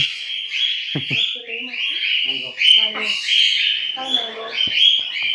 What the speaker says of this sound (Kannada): ಪಕ್ಷಿನ ಕೂರಿಸ್ಕೊಂಡಿದ್ದೆ